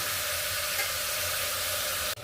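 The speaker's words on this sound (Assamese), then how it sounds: "এতিয়া আলু দি পেলাই আকৌ অকণ সময় ভাজি ল'ম" Loud, steady sizzling of meat and potatoes frying in hot oil, a continuous crackling hiss that drops briefly right at the end.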